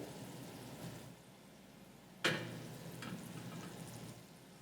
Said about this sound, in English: I don't know if you can hear it sizzling.